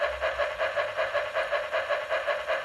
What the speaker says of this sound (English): you can mash this button and it makes a horn